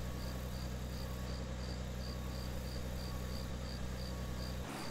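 Crickets chirping at night on a farm in the video game Farmer's Dynasty, a steady, even chorus of pulsing chirps over a constant low background hum, with no talking.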